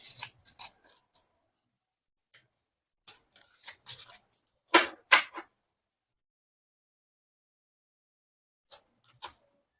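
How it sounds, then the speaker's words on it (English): Cards are shuffled and pulled from a deck of guidance cards in a quiet room, a series of short, crisp papery flicks and snaps in scattered bursts with silent gaps between them. "We'll pull out a couple of guidance cards."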